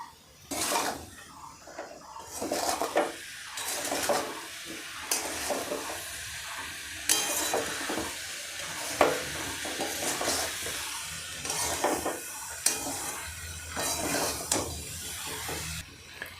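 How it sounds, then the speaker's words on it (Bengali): Mango pickle mixture with mustard powder is stirred in a pan, making repeated scraping and soft sizzling strokes in an uneven rhythm, with a few sharper clinks of the spoon against the metal and no talking. "মিনিট চারেক লাড়ার পরেই কিন্তু আমি গুঁড়ো মশলাগুলো মিশিয়ে দিলাম"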